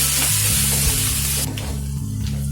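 Crushed ginger, garlic and green chillies sizzle steadily in a pan over a low flame, a dense continuous frying hiss that softens partway through, with a low hum underneath.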